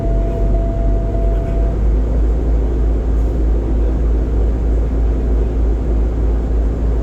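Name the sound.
truck engine revving to build up air brake pressure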